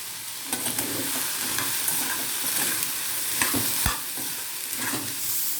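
Yam curry with chili powder and turmeric stirred in a pan, a dense sizzle under repeated scraping and clanking strokes of a spoon, close and continuous with no talk.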